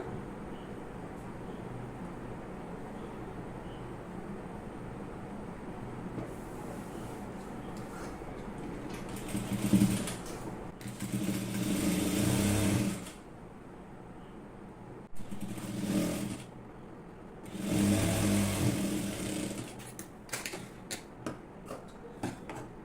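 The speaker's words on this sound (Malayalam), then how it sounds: "ഇനി അടുത്ത പീസ് നമുക്ക് അതേപോലെ തന്നെ മടക്കിയിട്ട് ഒന്ന് വെച്ചിട്ട് സ്റ്റിച്ച് ചെയ്തെടുക്കാം" Sewing machine stitching folded pieces of waste cloth, heard as several short mechanical whirring bursts of a few seconds each, moderately close over a quiet background.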